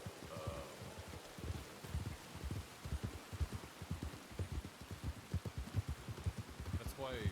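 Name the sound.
rain in video game WildRP (Red Dead Redemption 2)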